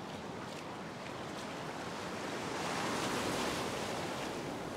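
Surf rolls onto a fishing beach in a broad, continuous hiss that swells slightly as a wave breaks, with some wind buffeting and no voices.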